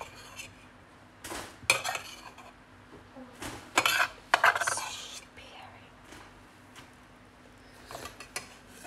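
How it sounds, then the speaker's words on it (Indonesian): Dishes, pots and cutlery clatter and clink during washing up, with sharp clanks around the second and fourth seconds over a steady low hum and quieter rinsing sounds. "aku ingin mencuci piring."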